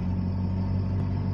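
A Suzuki Grand Escudo 1.6 engine held at full throttle gives a steady, loud, low rumbling drone with no break or change in pitch.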